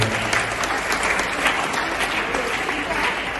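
Students burst into steady, dense applause at SMK Negeri 1 Batam during a visiting Year 9 class's study trip, the clapping filling the room with some voices mixed in throughout.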